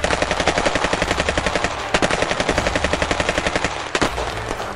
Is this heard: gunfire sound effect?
yes